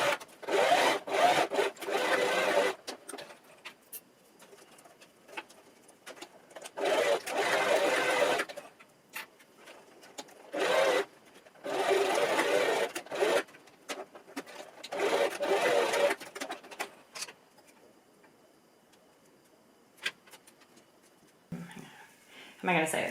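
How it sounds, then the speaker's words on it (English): A sewing machine sews elastic into fabric scrunchies, running in four or five loud whirring bursts separated by brief pauses and quieter handling noises. "we're going to sew the elastic first and then do the final seam"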